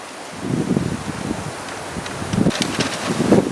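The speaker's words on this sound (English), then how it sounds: "The wind's starting to pick up." Outdoor wind gusts buffet the microphone in uneven bursts, with a few louder rushes and some rustling, during work on a flat set for coyotes.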